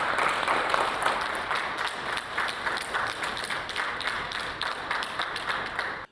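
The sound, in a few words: applause by the Prime Minister and government members at the Council of Ministers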